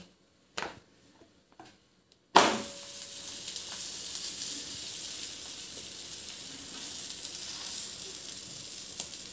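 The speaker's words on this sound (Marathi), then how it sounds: "तवा मी व्यवस्थित गरम करून घेतलाय। आता आपण त्याच्यावर आपण जो लच्छा पराठा लाटून घेतलाय तो घालून घेऊया।" Lachha paratha laid on a preheated tawa: after a couple of brief knocks and near silence, a loud sizzle bursts in and holds as a steady close frying hiss to the end.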